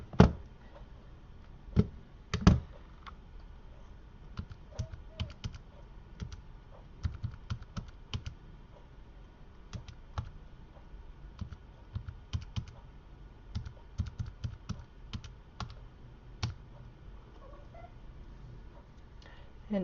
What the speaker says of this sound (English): pause for a second while I type this into my calculator